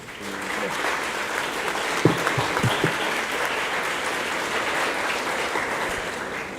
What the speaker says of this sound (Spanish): Recibamos con un fuerte aplauso a Andrea.